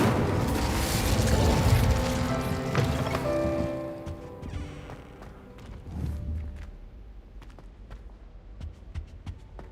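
An Incendio fire spell is cast in Hogwarts Legacy, opening with a loud whooshing, crackling burst that fades over several seconds and leaves scattered faint clicks and thumps behind.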